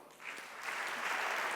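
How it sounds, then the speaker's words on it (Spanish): An audience at a design conference applauds, the clapping swelling from moderate to a full, sustained round that fills the room. "Le damos un fuerte aplauso."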